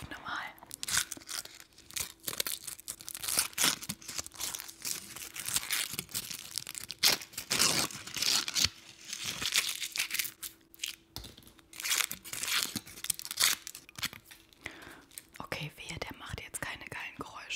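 The wrapper of an organic chocolate Santa is torn open and crinkled close to the mic in crisp, irregular rips and rustles, mixed with soft whispering throughout.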